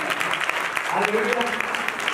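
Audience applause at a talk on stress, brisk crowd clapping throughout with a voice speaking over it.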